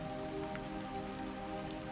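Soft, steady rain falls on surfaces and drips from the eaves, a faint continuous patter with scattered tiny drops and nothing else over it.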